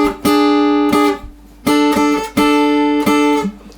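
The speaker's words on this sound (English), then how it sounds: "So an E into a D sounds like this." An acoustic blues guitar plays a lick in A, moving from an E into a D, with bright plucked double notes struck in quick pairs. Each note rings clearly and decays close up, with no talking over it.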